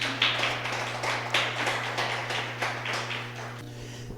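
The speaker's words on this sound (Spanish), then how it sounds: "Denle una ofrenda de aplausos al Señor." A church congregation claps together, a steady stream of overlapping hand claps that sounds fairly close, with a constant low hum running underneath and the applause thinning out near the end.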